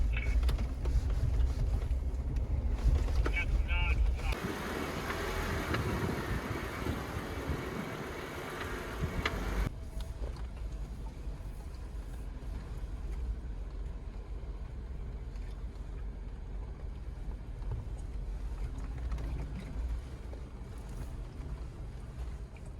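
A Jeep crawls off-road over bumpy rocks in Moab, giving a steady, close engine rumble with rattling and knocking. The noise is loudest in the first few seconds, then settles to a lower drone, with no talking.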